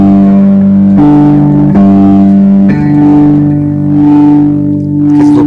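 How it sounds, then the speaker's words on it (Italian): Instrument note played through an octave effect pedal, adding a doubled pitch layer; sustained tones change pitch a few times, loud and steady with no voices. "Questo è con l'ottave."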